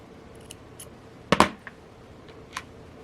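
Scissors snip through nylon bracelet cord in one crisp double-edged cut, loud and close, with a few faint clicks of the blades before and after in an otherwise quiet room.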